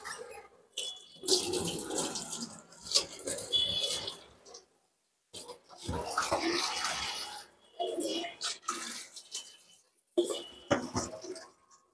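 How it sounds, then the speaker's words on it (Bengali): Coriander leaves are rinsed under a running tap at a kitchen sink, with bursts of splashing water broken by short quiet gaps. "ধনিয়া পাতা গুলো ধুয়ে নিছি"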